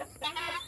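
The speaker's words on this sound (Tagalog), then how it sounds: "native na manok, panabong." Native fighting rooster, about six months old, on a backyard farm, giving a single short cluck, faint and brief.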